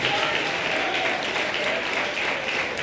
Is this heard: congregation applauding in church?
yes